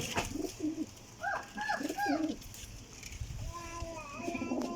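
Flying pigeons, a flock sold as a set, coo repeatedly in rolling throaty phrases nearby, with soft chirps and wing rustles amid background murmur.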